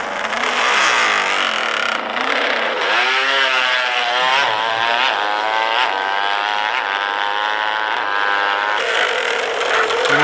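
Racing motorcycle engine from an Upin cartoon race, a loud continuous whine that climbs and falls in pitch as it revs and shifts, steady and close throughout with no talking.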